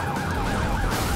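Wailing police car siren from a video game chase, a continuous sweeping electronic tone that stays loud and steady for its whole length, with no talking.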